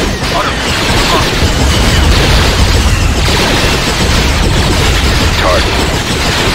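Explosions from a bombing run in a Star Wars: The Clone Wars battle, a dense, loud barrage of booms and rumbling blasts piling into a continuous roar for several seconds.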